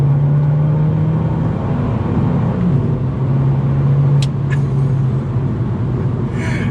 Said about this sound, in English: You just want to keep making these silly loud noises from the Akrapovic exhaust